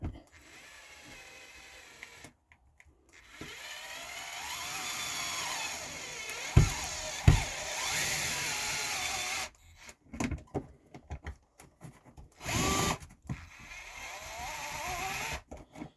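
An electric screwdriver drives screws into a ceiling puck light fixture inside a Coachmen Apex Nano 213RDS travel trailer, giving close, start-stop bursts of motor whirring separated by short pauses and a few handling knocks.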